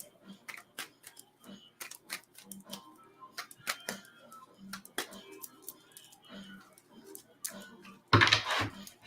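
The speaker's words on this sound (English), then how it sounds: "All right, I already cleared the deck. Let's start shuffling." Sharp clicks and soft taps from handling a deck of cards up close, irregular and intermittent, ending with a louder burst of riffling.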